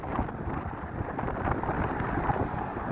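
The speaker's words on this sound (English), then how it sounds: "It's very, very windy out here this morning." Strong wind buffets a microphone on a morning walk outdoors in Las Vegas, a continuous loud rushing roar with gusty swells and no voices.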